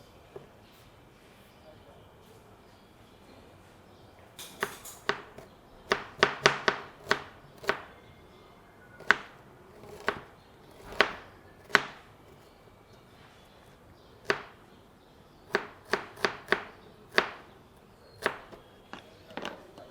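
Onions being cut lengthwise into julienne strips with a knife on a board, a series of crisp, sharp chops that come in quick clusters with pauses between them, close and clear over a quiet room.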